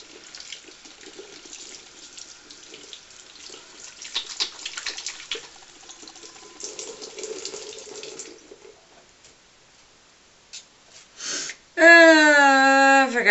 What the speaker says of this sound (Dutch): Doe ik even weer mijn handen even wassen met koud water.